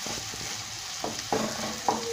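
Chicken roast fries in a pan, a soft sizzle with occasional scraping stirs of a spoon, quiet and close with no voices.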